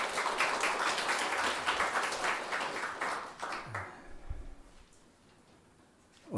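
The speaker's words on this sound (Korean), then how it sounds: "우리 하나님께 감사와 영광의 박수 올려드리겠습니다" A church congregation claps together during a Korean Sunday worship service, with dense, steady applause for several seconds that thins out and fades to near quiet with a few stray sounds.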